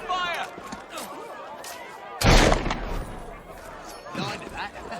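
Soldiers fire on protesters in Hyde Park in Assassin's Creed Syndicate, a single loud, booming volley midway through, surrounded by shouting voices and crowd noise.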